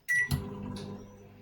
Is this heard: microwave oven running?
yes